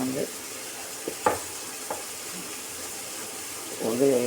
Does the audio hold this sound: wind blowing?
no